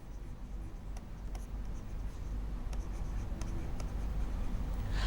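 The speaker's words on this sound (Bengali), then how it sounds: "আমি একটু এখানটা এইভাবে লিখছি" Chalk or marker scratches steadily across a classroom board during a lesson, with soft repeated strokes and light taps under a quiet room hum.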